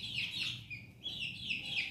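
Chickens and chicks calling, including young native chicks and two roosters: continuous high, thin peeping and chirping close by, overlapping and steady, with a low rustling background and no talking.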